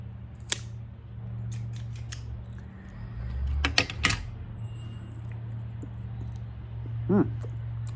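A straight cut on a Cohiba Blue cigar lands as a few sharp, crisp clicks of the cutter, close and brief against a quiet room hum, with small handling noises around them.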